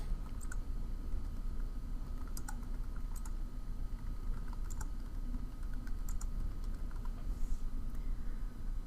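Keys on a computer keyboard click in quick, uneven bursts while a search title is typed, fairly faint over a steady low hum of background noise.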